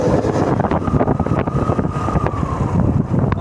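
A motorcycle engine pulls hard in first gear up to high revs, a loud, rough drone that rises steadily in pitch, heavily buffeted by wind noise and with no voices.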